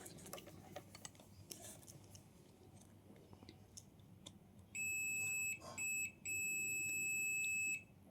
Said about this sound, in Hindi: ये तो डायोड गया, बीप साउंड दे रहा है।